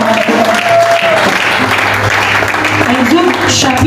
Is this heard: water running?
no